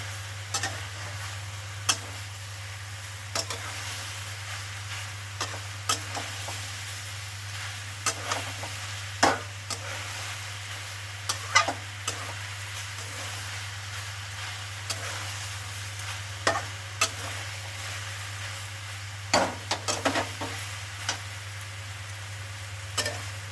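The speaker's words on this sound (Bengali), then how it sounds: "মশলাটা দিয়ে একটু নাড়াচাড়া করে নেবো।" Spices being stirred in a pan with greens over a low sizzle, scattered scrapes and taps of a spoon against the pan at irregular intervals, quiet and close.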